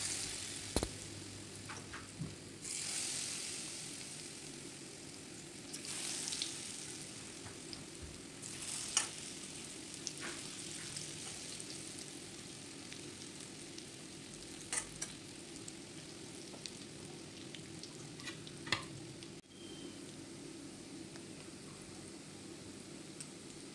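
Aloo chop frying in oil, a quiet continuous sizzle with occasional ticks and stirring clinks, steady throughout and heard alone without speech.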